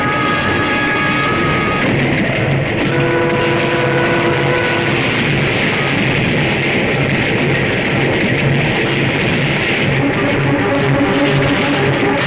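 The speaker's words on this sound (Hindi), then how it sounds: "अरे ये क्या, ये ट्रेन रुकी क्यों नहीं?" A train rushing past without stopping in a Bollywood action film, a loud, steady roar of rolling wheels and rumbling carriages with tonal squeals and horn-like notes throughout.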